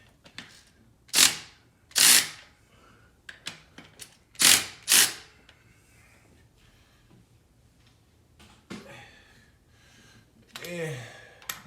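A ratchet wrench loosens and torques oil pan bolts, heard as several loud short clicking bursts close by with quieter ratcheting taps between, and a voice briefly audible near the end.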